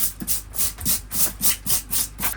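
A wire brush scrubs the trunk of an English oak bonsai in steady back-and-forth strokes, about eight even rasping passes close up with no talking.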